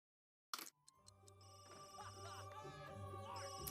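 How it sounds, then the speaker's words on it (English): A mobile phone rings in The Sims 3: a sharp onset, then a repeating electronic ringtone melody with tonal chirps, fairly quiet and heard alone without talk. "his phone is ringing"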